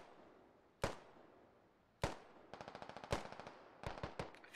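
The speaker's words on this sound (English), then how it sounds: "he's laying down some fire with an AR" AR rifle fire in a tactical military video game, heard as single sharp shots followed by rapid bursts of automatic fire, distant and fairly faint, with echoing tails between volleys.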